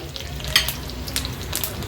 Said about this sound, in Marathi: राई आणि जिरं छान तडतडलं की